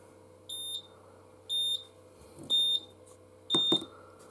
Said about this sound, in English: then we'll go ahead and activate the detector, the ionization detector